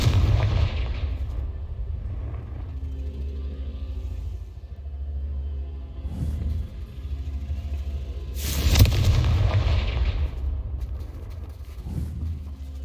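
Fiery Confringo spell blasts in the game Hogwarts Legacy, several deep rumbling booms with one sharper loud explosion near the end, over a constant low droning background.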